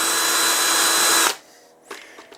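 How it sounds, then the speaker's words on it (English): A power drill runs steadily at slow speed, boring holes through a bit with a loud, continuous whine that stops abruptly partway through, followed by a few faint clicks and knocks. "With that drill bit going slower, they cut real good."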